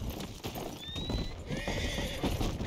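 A horse whinnies in a high, rising call while hooves clop steadily underneath, close and fairly loud against a busy background.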